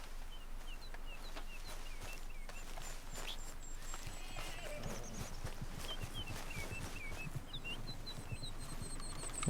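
Horse hooves clip-clop at a steady pace in Red Dead Redemption 2 for an American Standardbred, with birds chirping across the outdoor ambience.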